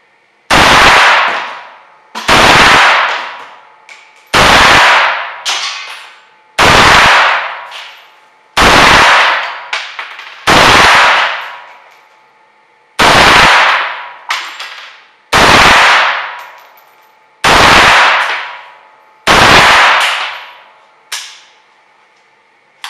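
An AK47 modern tactical rifle in 7.62 fires about eleven single loud shots at a target at a range, spaced every two seconds or so, each sharp crack followed by a ringing echo, with no talk.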